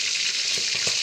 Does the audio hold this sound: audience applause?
no